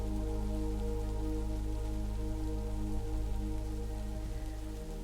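Rain falling on leaves in the woods, a soft steady patter over a low continuous drone that shifts slightly near the end, calm and even throughout.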